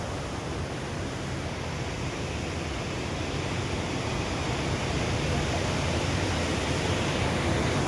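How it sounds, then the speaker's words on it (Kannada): Wei Sawdong Falls near Shillong roars as a constant, broad wash of falling water, steady and fairly loud with no pauses. "ಈ ಒಂದು ವಾಟರ್ ಫಾಲ್ಸ್ ಮಾತ್ರ ಸೂಪರ್ ಆಗೈತೆ."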